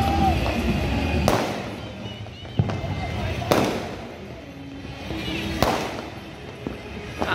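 Three sharp, loud bangs spaced a couple of seconds apart, like firecrackers going off nearby, over a steady background of crowd noise and chatter.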